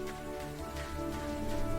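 Steady rain pours in a Pakistani 3D cartoon as two brothers walk a hard mountain path, a dense continuous patter with a faint tonal music bed underneath and no speech.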